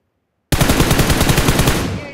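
Rapid automatic gunfire in a battle royale video game, a loud, tightly spaced burst that starts abruptly after a short silence and rings out briefly at the end.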